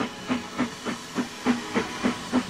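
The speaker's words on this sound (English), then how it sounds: "Oh, yes, I'm keen on steam trains." Rhythmic puffs of steam hissing from a train, about eight evenly spaced chuffs with a faint low hum beneath.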